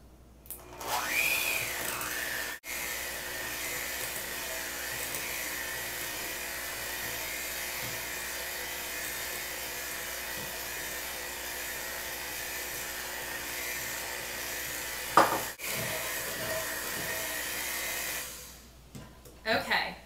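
An electric hand mixer beats room-temperature cream cheese with sugar in a bowl, a steady high whirring drone running nearly the whole time with a couple of brief pauses and knocks before it cuts off near the end.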